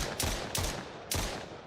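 Three quick, punchy gunshots fire in a burst from a rapid-fire weapon in an Unreal Engine 5 game, evenly spaced and close, with no voices over them.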